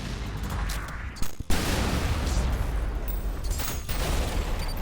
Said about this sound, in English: You can launch a grenade, swap to the explosive railgun, and shoot the grenade mid-air with the railgun to create a pocket-sized nuke.